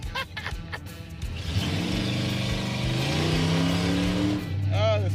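A car drifts on its big 26-inch wheels, its engine revving and climbing steadily as the tires squeal and smoke. The sound is loud and close, with brief talk at the start and end.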